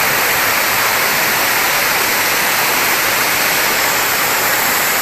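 A waterfall in the Phu Langka valley pours steadily, a loud, unbroken broadband rush of falling water with no voices or other sounds over it.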